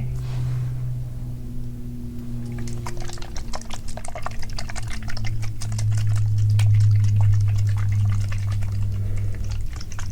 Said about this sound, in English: I brought a little bit of water to spray as well to purify.